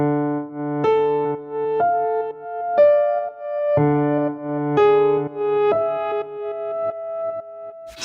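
Two layered piano presets, one with reverse delay, play a sequence of notes and chords with a smeared, swelling quality, echoes trailing behind each attack as layered tones blend and repeat.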